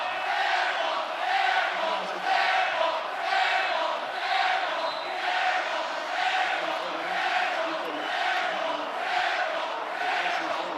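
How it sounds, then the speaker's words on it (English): Basketball arena crowd at a Colorado State at Utah State college game inside the Dee Glen Smith Spectrum, a loud, sustained roar of cheering and chanting that swells and pulses steadily throughout. "This crowd is as loud at the first minute of the game and with 24 seconds left part of the game."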